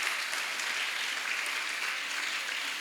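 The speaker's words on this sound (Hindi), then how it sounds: "एक बार जोरदार तालियों से हम आपका स्वागत करते हैं।" Loud welcoming applause from participants at a teaching and training camp class, a continuous dense wash of clapping heard alone and evenly sustained, slightly distant.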